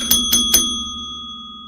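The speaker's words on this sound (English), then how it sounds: "You guys know why I'm ringing that bell." A bicycle bell rings three quick, bright strikes in close succession, then its metallic tone rings on and slowly fades, loud and alone.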